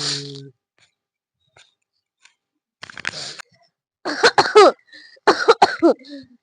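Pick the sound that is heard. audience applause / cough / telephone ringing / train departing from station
cough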